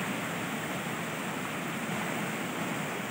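River water flowing on rural property in Quezon, a steady, even rush of broadband water noise heard close and alone for a few seconds.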